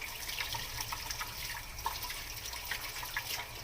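Water runs from a faucet while hands are rinsed under it, a faint, continuous splashing trickle with small irregular drips and spatters, heard alone without talk.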